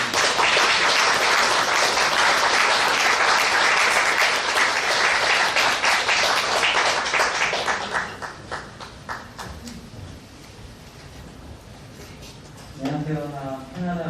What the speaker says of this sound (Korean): 나오실 때 뜨거운 박수로 환영하겠습니다.